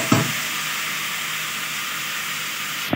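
Vegetables for a mixed-vegetable labra curry fry in a pan with a loud, steady hiss of sizzling oil, a faint stir at the start and a clack near the end.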